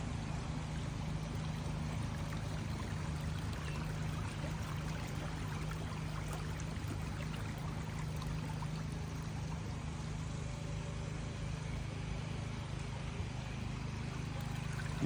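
Water runs steadily along an irrigation channel in a farm garden in Salalah, a soft, even trickling and gurgling flow that stays constant and fairly faint, with no voices.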